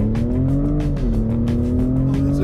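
A Ford Raptor truck driving off-road in Baja mode with traction control off gives a loud, close, steady engine drone that rises slightly in pitch, with gravelly rumble and rhythmic bumps from the rough terrain.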